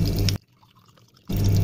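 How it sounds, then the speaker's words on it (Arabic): Vinegar is poured into a container of mixed pickle vegetables with lemon and no water added, a loud splashing stream that stops abruptly, leaves a short quiet gap, then gushes again. "وهنحط كوبايه ونص خل"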